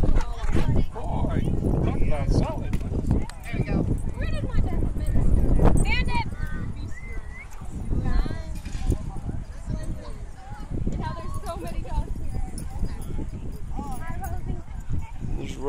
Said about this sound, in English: we got some yelping